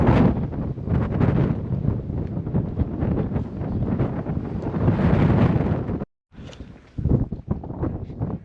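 Wind gusts roar steadily across the microphone on a creek hike, loud and buffeting, dropping out briefly near the end before resuming in choppy bursts.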